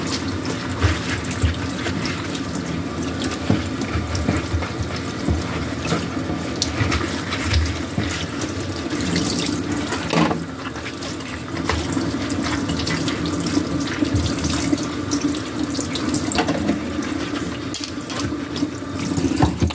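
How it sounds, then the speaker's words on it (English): Ceiling light covers rinsed under a running sink tap, steady close splashing water flowing continuously for about twenty seconds with no talk. "I'm just going to rinse those off"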